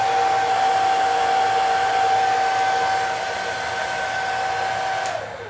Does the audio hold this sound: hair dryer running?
yes